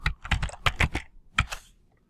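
Someone types on a computer keyboard, producing a quick, close run of crisp key clicks in two short bursts separated by a brief pause, with no one talking.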